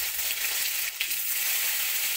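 Tomato frying in hot oil with bay leaf and panch phoron, a loud, close, steady sizzle with a brief stirring scrape partway through.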